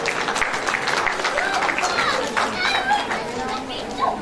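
Concert audience applauding at a spring concert by a Turkish folk music choir, loud, dense clapping with excited chatter and children's voices mixed in, continuing throughout.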